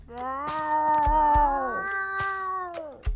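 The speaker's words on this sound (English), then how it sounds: "These cat sounds." A drawn-out, wavering cat meow from the anime-style adventure game Sushi Ben, one long tonal call over quiet background music with faint clicks, fairly close and clear.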